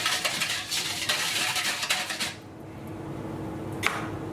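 Olive oil, sugar and dry yeast stirred in a bowl: a close, steady scraping swish for about two seconds, then it stops, leaving near quiet with one small clink near the end.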